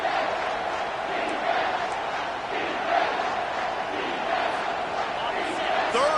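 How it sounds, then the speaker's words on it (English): Stadium crowd noise from the video game College Football 25, a steady roar of cheering fans holding at a constant level throughout, with broad swells of voices and no distinct speech. "This crowd will blow out a vocal cord to help this defense."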